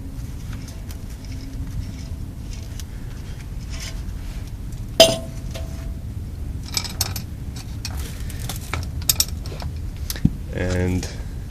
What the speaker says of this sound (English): Listen to how it sounds. That's a bad bearing.